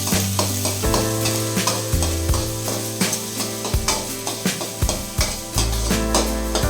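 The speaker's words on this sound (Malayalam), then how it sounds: "കടുക് പൊട്ടി വന്നതും അരിഞ്ഞു വെച്ചിരുന്ന ഉള്ളിയും സബോള പിന്നെ കുറച്ച് പച്ചമുളക് അരിഞ്ഞു വെച്ചിട്ടുണ്ടായിരുന്നു, ഇതെല്ലാം കൂടി ഇട്ട് കൊടുക്കുകയാണ്" Chopped onions and green chilies sizzle and crackle in hot oil with popped mustard seeds, frying loudly and close up, broken by repeated clanks of a spoon stirring against the pan, with a steady hum underneath and no talking.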